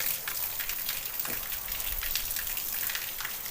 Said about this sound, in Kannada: ಮಳೆ ಬಂದೈತಿ